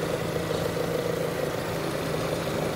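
An old engine idling with its air cleaner removed, a steady low mechanical hum with a faint even pulse, close and unchanging over a few seconds, with no voices.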